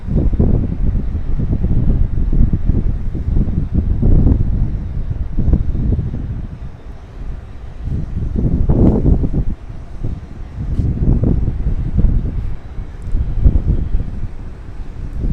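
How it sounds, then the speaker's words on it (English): Wind gusts buffet the microphone on an outdoor night view of the Manhattan skyline, loud low rumbling surges that rise and fall in waves without talk. "You can hear the wind pick up as we head to the more south view."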